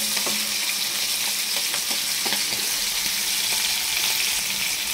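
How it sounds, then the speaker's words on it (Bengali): Steady loud sizzle of prawns frying in hot oil, with occasional light clicks and stirring sounds throughout. "এই এক পিঠটা ভাজা হয়ে গেছে, আর একটা পিঠ একটুখানি ভাজা হলে নামিয়ে নেব।"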